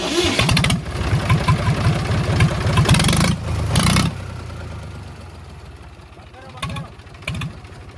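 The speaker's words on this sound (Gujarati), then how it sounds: "ટ્રેક્ટર ચાલુ થયું" Tractor engine cranking over and catching, then running with a rough, pulsing chug up close before settling to a quieter idle, with people talking over it.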